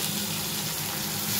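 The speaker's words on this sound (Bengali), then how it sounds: "পেঁয়াজটা একটু ভাজা হবে" Onions fry in a pan with a soft, continuous sizzle, low in level and close by, steady throughout with no talk.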